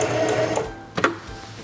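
A Heavy Duty 4411 sewing machine stitching backwards with its reverse lever held, a steady motor whir with rapid needle rhythm that pauses, then a couple of clicks follow.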